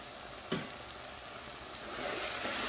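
Coriander stirred into sizzling lamb karahi, a dense, steady frying hiss with one brief utensil knock near the start, the sizzle swelling slightly louder toward the end, no voices.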